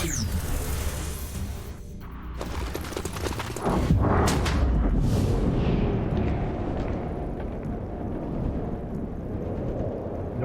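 A grenade detonates in the turn-based tactics game XCOM Chimera Squad, a loud, full-bodied blast with a lingering rumble that fades slowly, preceded by brief game effects.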